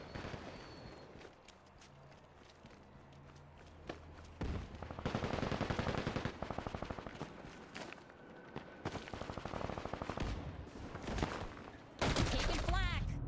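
Gunfire from a shooter video game, with dense fusillades and machine-gun bursts crackling in loud waves between quieter stretches, and a brief fresh volley near the end.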